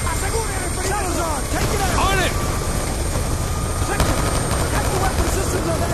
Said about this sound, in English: drone taking off!